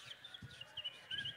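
A festival crowd at a live concert imitates gentle birds with their hands and whispers, making soft, scattered chirps and tweets over a faint, airy hush.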